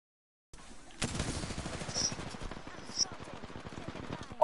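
Rapid automatic gunfire rattles in the battle-royale video game Apex Legends, with dense bursts running almost continuously over a low rumble. Sharp game sound effects ring out over it, and a voice is faintly present.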